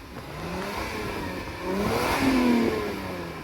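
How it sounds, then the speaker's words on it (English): A Lexus IS 300 engine revs up, its pitch climbing and swelling toward a louder peak midway before easing slightly, with steady mechanical roar throughout. "Let's hear some revs."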